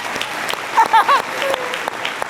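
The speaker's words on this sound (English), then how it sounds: "give her a huge round of applause for that" A seminar audience bursts into brief, dense applause, a steady patter of many hands clapping, with a voice briefly audible over it.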